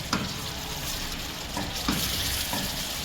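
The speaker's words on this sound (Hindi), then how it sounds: "अभी हम इसे भूनेंगे अराउंड जब तक कि ऑयल जो है वो ऊपर नहीं आ जाता" Lucknowi-style chicken masala with whole spices bhuna-fried in oil over a medium flame, giving a steady close sizzle and crackle with a few soft stirring scrapes and no talk.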